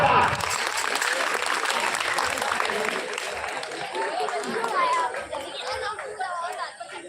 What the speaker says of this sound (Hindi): तालियां जोरदार।